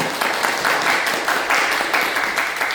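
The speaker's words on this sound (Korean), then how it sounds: "우리 에스더 여성교회를 위해서 격려의 박수" A church congregation at a Sunday worship service gives a women's group sustained, dense applause that stays steady and fairly loud for the whole stretch, with no voices over it.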